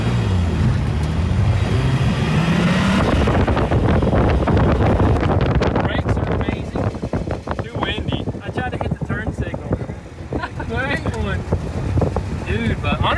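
A BMW M3, rebuilt from a wreck and driven with a manual gearbox, roars under acceleration, then gives way to loud wind and road rush as it cruises, engine noise staying near and heavy.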